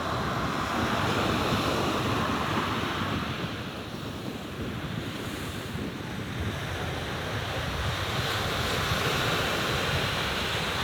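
Gentle surf washes steadily onto a quiet beach in Bali, a continuous broadband rush of breaking waves with light wind buffeting the microphone, fairly close and loud, with no voices.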